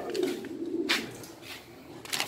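Pure-line Janssen racing pigeons cooing nearby, soft low throaty coos repeating in short phrases with a few wing or movement rustles, close and fairly quiet, without talk.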